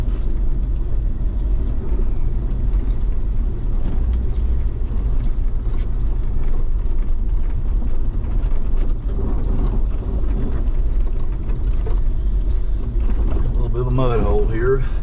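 A Jeep TJ crawls along a rocky off-road trail, giving a constant low rumble with creaks and clunks of the suspension and body, heard from inside the vehicle, with muffled talk at times.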